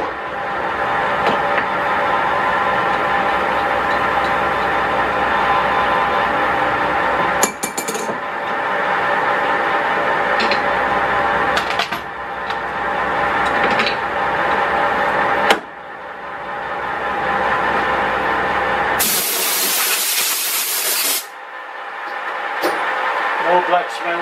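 A lathe runs after a gear change from high to low speed, giving a loud, steady mechanical drone with brief interruptions and a short burst of harsh hiss near the end.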